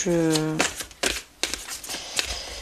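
Large oversized oracle cards being shuffled by hand, a few quick riffling bursts of papery slaps and rustles at close range, with a short tone at the start.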